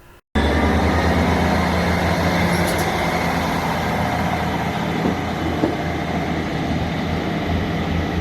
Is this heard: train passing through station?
yes